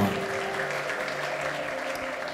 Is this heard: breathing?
no